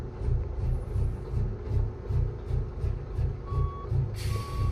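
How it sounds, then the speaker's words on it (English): A reversing truck in American Truck Simulator sounds its backup beeper in a steady, regular beep-beep rhythm over a low idling engine rumble, with a short air brake hiss near the end. "you're going to need to hear this backup beeper quite a bit"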